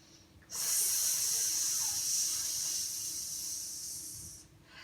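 A steady, airy breath hiss held for about four seconds, close and even, fading slightly toward the end.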